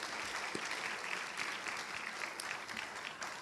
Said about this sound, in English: Another round of applause for all of our musicians today,